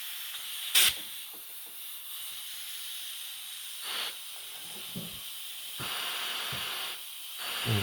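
Air hissing steadily from a bowed, gasketless airbox lid on a Kove 450 Rally motorcycle under a pressure test, a faint continuous leak with a few brief louder bursts and clicks.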